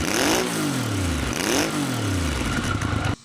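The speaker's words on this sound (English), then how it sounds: "This Hinckley triple, it's got a great sound to it." A Triumph Hinckley triple motorcycle engine revs hard twice, each rise sweeping up in pitch then falling back with a raspy growl, loud and close, cutting off abruptly at the end.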